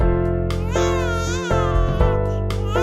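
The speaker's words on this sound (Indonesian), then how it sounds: "Ada suara tangisan bayi." A baby wails in the Sakura School Simulator video game, loud, close, continuous crying in rising and falling bursts with brief catches for breath.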